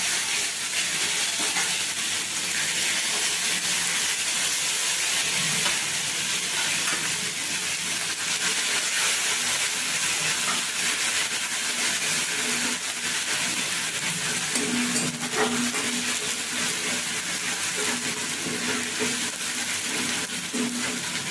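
Mustard paste and green chili paste hit hot oil in a village kitchen, raising a continuous close sizzle and hiss with scattered spatters and faint stirring scrapes throughout.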